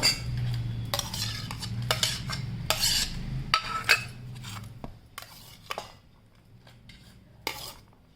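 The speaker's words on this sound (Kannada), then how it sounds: "ಸೌತೆಕಾಯಿ ಕ್ಯಾರೆಟು ಎಲ್ಲ ಸೇಮ್ ಇಂಗ್ರೀಡಿಯೆಂಟ್ಸೇ ಇದಕ್ಕೆ ಹಾಕಿರೋದು ಚೆನ್ನಾಗಿ ಮಿಕ್ಸ್ ಮಾಡ್ಕೊಂಡ್ಬಿಡಿ ಇದನ್ನು" A chaat mixture of onion, cucumber and carrot is stirred in a bowl: repeated clinks and scraping knocks of a utensil in an uneven rhythm, close and clear, easing off toward the end over a faint background hum.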